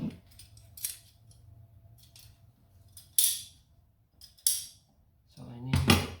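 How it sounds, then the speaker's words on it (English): Scissors or cutters snip through a rubber garden hose during a car catch can installation, several short, crisp cuts spaced out over quiet background with a brief bit of handling noise. "cut the other hose, this garden hose, cut that to fit over"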